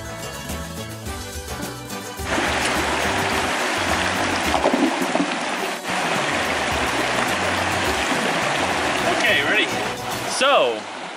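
A stream flows through a forest, deep enough to need a small built-up spot to stand on, with a little dam nearby; a steady, close rush of water fills the clip after a quieter start.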